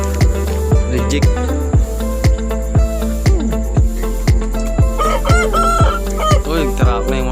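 A rooster crows on a backyard egg farm, a drawn-out call over steady rhythmic thumping and a low constant hum, with faint clucks and insect chirping beneath.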